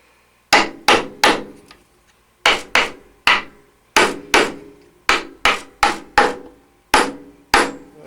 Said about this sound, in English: I had to drive it in with a hammer